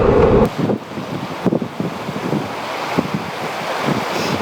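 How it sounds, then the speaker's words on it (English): Wind buffets the microphone at a windsurfing beach while surf rolls in, a loud, gusty roar with uneven bursts and no speech. "Alright, the wind is pretty good."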